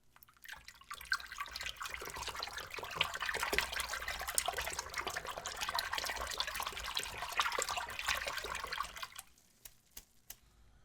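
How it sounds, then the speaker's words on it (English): Plastic game console parts are swished and rinsed in a sink of warm water with dye-free laundry detergent, making a continuous splashing, sloshing wash that stops abruptly near the end. "Using warm water and dye-free laundry detergent"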